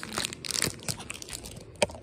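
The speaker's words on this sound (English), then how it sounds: "So, time to unwrap it." A Japanese gummy raindrop candy is unwrapped right up close, its wrapper giving sharp crinkling and crackling bursts over about two seconds, ending in one louder snap.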